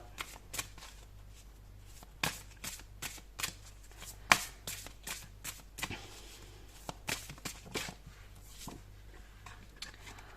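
Tarot cards are shuffled and drawn by hand, making a string of sharp riffling flicks and soft card slaps at an uneven pace. They sound close and clear against a quiet room, with no talk.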